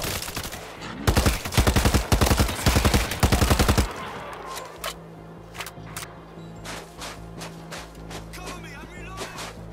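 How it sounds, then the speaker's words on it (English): An automatic turret in the video game World War Z Aftermath fires on zombies in a loud rapid stream of shots for a few seconds, then stops, leaving sparse scattered bangs and clatter. "Auto turret set."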